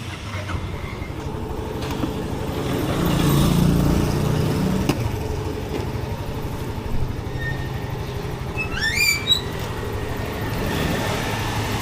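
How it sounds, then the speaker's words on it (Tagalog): Yamaha Mio Soul i25 scooter engine starts and settles into a steady, low idle, heard up close as a continuous rumble without talk. "Start lang tayo ng makina."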